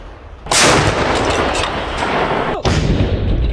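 A heavy artillery blast from a D-30 howitzer erupts with a long rumbling roar, followed by a second sharp boom; loud and powerful, no voices.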